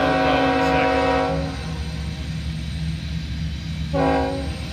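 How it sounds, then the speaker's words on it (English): Freight train led by UP and CP locomotives arriving at Bellevue, its horn sounding loud and sustained, then again after a pause, over a constant rumble of the approaching train. "He's coming in. He looks like he has a UP loco in the lead, a CP loco in"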